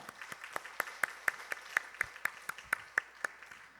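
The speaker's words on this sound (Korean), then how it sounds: "우리 박수로 우리 축하하겠습니다" A church congregation claps together in celebration, a steady run of sharp, evenly spaced claps at a moderate distance, quiet overall with no talk over it.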